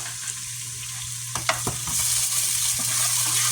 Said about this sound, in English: we're going to start sweating off 3 tablespoons of minced garlic and a half a teaspoon of red pepper flakes